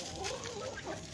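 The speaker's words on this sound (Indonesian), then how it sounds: "Ini ayam jobbernya guys yang bertelur guys ya." Joper laying hens and a rooster in a coop cluck softly and steadily, a few overlapping birds murmuring close by with no talking.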